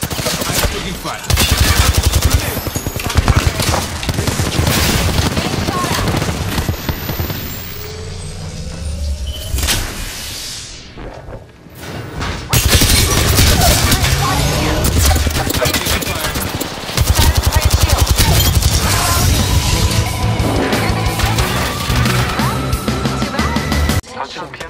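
Dense bursts of automatic gunfire in Apex Legends, loud and sustained with rapid shots and impacts, dropping briefly near the middle before resuming heavily with game sounds throughout.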